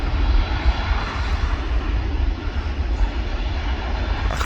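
A Qatar Airways Airbus A350 passes overhead at a viewing park, and its jet engines give a broad, steady rumbling roar. The roar holds at a fairly constant loudness throughout and has no talk over it.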